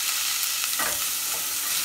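Diced celery is tossed around a hot pan with a wooden spoon, giving a steady sizzle with a few soft scraping stirs, close and fairly quiet, with no talking.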